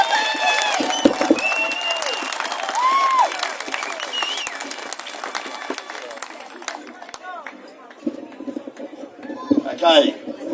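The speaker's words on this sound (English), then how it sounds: "let's give the big Don a bit of a cheer" Protest crowd at a Convoy to Canberra rally cheering and clapping, a dense wash of applause and scattered shouts filling the open air, swelling again near the end with voices mixed in.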